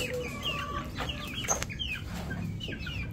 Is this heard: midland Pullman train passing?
no